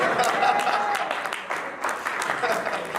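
A church congregation applauds during a sermon, with steady, fairly loud clapping throughout and someone speaking over it.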